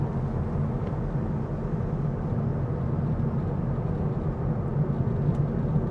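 Inside the cabin of a Honda Elevate ZX CVT cruising at 60 km/h, a steady, even low rumble of road and engine noise holds for the whole stretch, with no voices.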